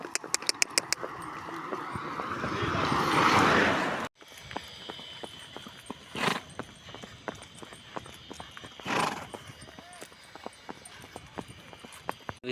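Mares' hooves clip-clop on hard ground, a rapid clatter at first and then slower, scattered steps, with a few louder knocks in between.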